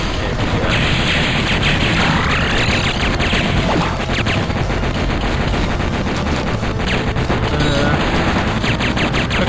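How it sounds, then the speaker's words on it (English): Heavy machine gun fire in the Metal Slug XX arcade-style video game, a dense rapid stream of loud gunshots with crashes and explosions, continuous and close. "Heavy machine gun."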